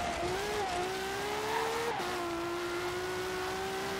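A LaFerrari in Forza Horizon 3 holds a steady high engine whine that climbs, dips briefly with a gear shift, then settles into a sustained loud drone, alone with no talk.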